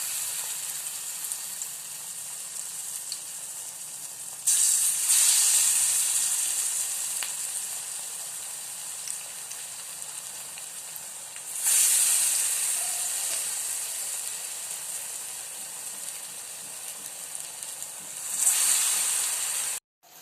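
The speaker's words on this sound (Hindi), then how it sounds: "मु एही भली छोट छोट आकार बरा करी तेल रे पकेबी।" Small chickpea-lentil bara fritters fry in hot refined oil, a steady close sizzle with three louder bursts as fresh batter drops in, each fading back to a continuous bubbling hiss.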